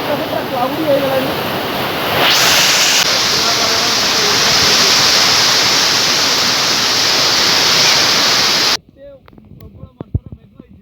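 Heavy rain pouring down during a storm in Dubai, a dense, loud, continuous roar of water close by for most of the stretch, then cutting off abruptly into quieter scattered sounds and faint voices.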